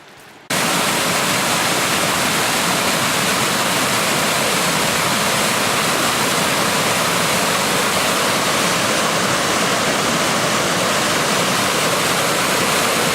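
Rushing water pours steadily beside a walking path, a loud, unbroken roar of flow that starts abruptly after a brief quiet moment and continues alone with no voices.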